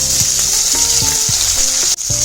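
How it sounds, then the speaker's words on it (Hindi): Tomatoes tipped into onions frying in hot oil for an Odia fish-head and vegetable curry give off a loud, steady sizzle with a few spoon scrapes, dipping briefly near the end before resuming. "तो उसके बाद हम ऐड करेंगे अभी टमाटर. हियर गोज आवर टमाटर."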